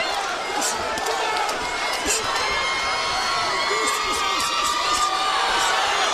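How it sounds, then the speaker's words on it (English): A boxing arena crowd at a Roy Jones Jr. versus Jeff Lacy fight roars and chants in a dense, sustained wash of cheering, with a commentator talking over it. "the chant going up in the crowd"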